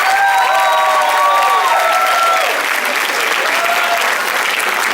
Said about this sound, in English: If we could have another collective round of applause for our freshmen.